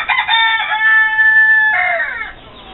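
A young rooster crows loudly and close by, one long drawn-out call followed by a shorter tail note, with no other sounds.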